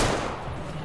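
A single loud gunshot rings out in the video game Metro Exodus, Sam's Story DLC, a sharp blast at the start that decays into a brief rumbling tail.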